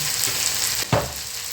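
Spices and turmeric dropped into hot oil in a frying pan in a village kitchen, a steady loud sizzle with a brief stirring clatter near the end, no talk.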